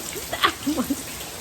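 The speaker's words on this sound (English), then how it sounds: "it is like seriously coming down" Heavy rain pouring down onto house skylights, a constant dense hiss, with a few faint fragments of voice over it.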